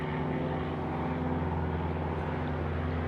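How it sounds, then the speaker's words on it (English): Propeller airplane passing overhead outdoors, a steady droning hum with low engine harmonics, moderately loud and continuous, no talking. "I can't stop all the noises that come with being out here, like this lovely plane"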